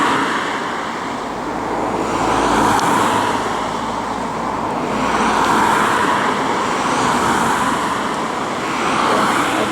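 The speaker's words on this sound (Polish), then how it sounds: "Albo na przejeżdżające samochody." Cars pass by on a nearby road one after another, each swelling loud and then fading, so the traffic noise rises and falls in slow waves with no break.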